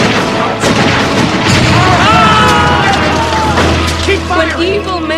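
Dense battle gunfire booms and pops continuously from soldiers' weapons, with overlapping blasts and loud shouting voices layered on top, close and chaotic throughout.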